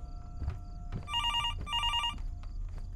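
Telephone ringing in the horror video game Fears to Fathom, two bursts of an electronic trilling ring, fairly close, with faint footsteps and room noise around them.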